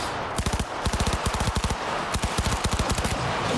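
Automatic gunfire in the Cyberpunk 2077 video game, rapid bursts of rattling shots in several quick volleys with short gaps between them, loud and close, over a continuous game background.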